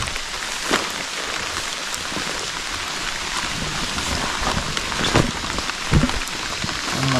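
Steady rain pours through the night on a mountain camping trip, a dense even hiss with occasional louder drops and patters close by.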